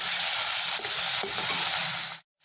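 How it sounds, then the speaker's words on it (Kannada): Raw green tomato fries in a pan with turmeric, a steady close sizzle with faint stirring scrapes running for about two seconds before cutting off abruptly. "ಇದನ್ನು ಮೆತ್ತಗಾಗೋವರೆಗೂ ಹುರ್ಕೊಳ್ಳೋಣ."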